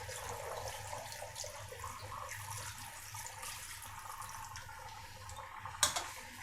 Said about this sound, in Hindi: चलें जी, अब इसमें हम डालते हैं पानी।